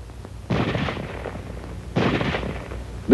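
Gunfire from a weapon with a selector for automatic and semi-automatic fire: two loud, separate bursts of shots, each lasting about half a second to a second, with quiet in between and no talk.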